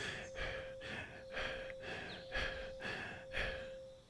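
A person demonstrates shallow breathing with short, quick breaths, close and fairly soft, repeating in a steady rhythm about once a second with no talking.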